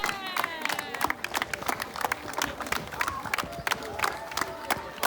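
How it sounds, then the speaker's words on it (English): Spectators along a marathon course in Portugal cheer and clap for passing runners, a dense, lively mix of applause and shouts around the listener, with scattered voices. "all of this and the cheering people in the crowd gave me a lot of energy"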